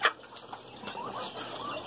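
Laying hens cluck in a small backyard flock with roosters nearby. Several short, overlapping clucks and murmurs carry on close by after one sharper call at the start, with no one talking.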